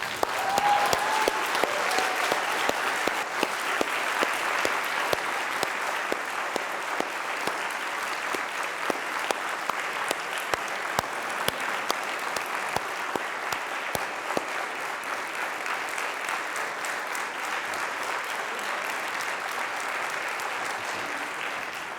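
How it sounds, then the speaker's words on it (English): Graduates at a Royal Conservatoire of Scotland (RCS) graduation ceremony stand and applaud their audience, a large hall filled with sustained, even clapping from many hands, loud and steady for the full stretch with no talking. "can I ask you to be upstanding and to applaud your audience as a way of saying thank you for being here"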